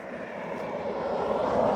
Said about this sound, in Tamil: ஒரு சிறிய ரக விமானம், அருமையாக இருக்குது.